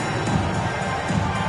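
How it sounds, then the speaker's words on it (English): A basketball video game crowd cheers and roars steadily at moderate distance, a continuous arena-like wash of voices. "Give a big round of applause."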